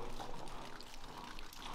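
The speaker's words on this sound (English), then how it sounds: "the water will go where it wants and it's just coming through the bricks there, all flowing down" Water seeps through the brick wall of Barnsdale railway tunnel and runs down it, making a steady, soft pouring trickle. The flow is continuous and faint, and no voices are heard.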